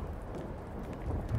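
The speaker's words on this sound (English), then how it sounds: "Thunderstorm, lightning." Thunderstorm with rain in the video game Blacksad: Under the Skin, a dense steady hiss of rainfall with a low rumble of thunder swelling toward the end, no voices over it.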